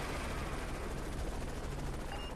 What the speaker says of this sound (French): On peut tirer vraiment comme on veut.